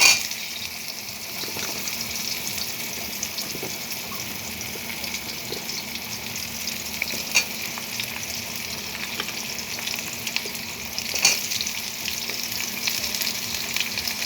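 Crab pieces fry in hot white oil in a wok, giving a continuous, fairly soft hiss with occasional louder crackles and spatters.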